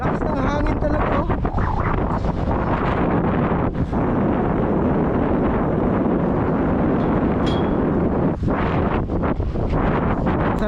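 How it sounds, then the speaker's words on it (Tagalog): Strong wind roars steadily across the microphone during a ride along a main road past trees, a loud, continuous buffeting rush with brief dips, with a voice talking faintly underneath. "Lakas ng hangin talaga oh."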